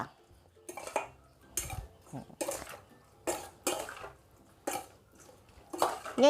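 A spoon clinks and scrapes against a bowl while spicy seafood larb is tossed with lime juice, seasoning powder and fish sauce, in short separate bursts of mixing with quiet gaps between them.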